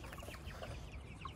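Large wheat chickens clucking softly in a farm setting, faint scattered clucks over a noisy low background hum, no voices.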